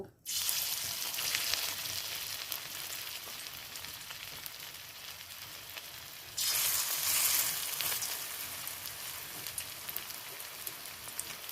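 Winter vegetable pakoras deep-fry in hot oil, giving a dense, even crackling sizzle like rain that swells louder for a stretch partway through and carries on alone without talk.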